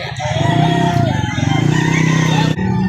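A rooster at a poultry market in Lipa City, Batangas, crows loudly and close in one long drawn-out call, with a shorter cluck at the very end.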